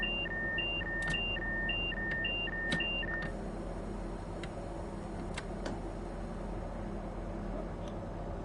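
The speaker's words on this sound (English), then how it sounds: "That was annoying, that beeping." A repeating two-tone warning beep in the Train Sim World 3 train simulator sounds in a steady pulsing pattern for about three seconds and then stops, leaving a low cab hum and a few faint clicks.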